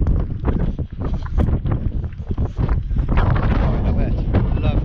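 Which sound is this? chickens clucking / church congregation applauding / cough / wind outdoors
wind outdoors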